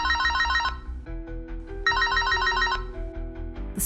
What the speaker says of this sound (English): I heard the phone ring.